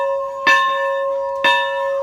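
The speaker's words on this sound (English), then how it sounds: "the students got to once again hear the bell beckoning them back to school" The old Miles Schoolhouse bell rings out on a school morning with two clear, evenly spaced strokes, each leaving a long, steady metallic hum that carries between strikes, with no voices.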